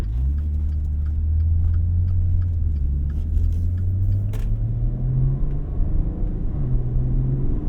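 Steady, smooth engine and road rumble from a 2015 Maserati Ghibli S Q4 twin-turbo sedan on the move, heard from inside the cabin, with a continuous low drone and gentle pitch shifts as it cruises.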